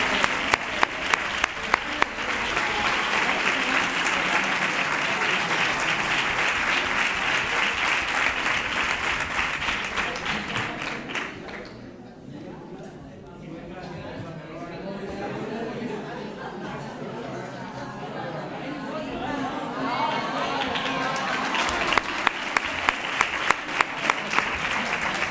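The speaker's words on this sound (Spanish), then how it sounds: "¡Fuerte el aplauso!" Crowd applause at a Three Kings proclamation event in Nerva, sustained loud clapping from a large audience that dips briefly midway, then swells again with scattered cheering and chatter.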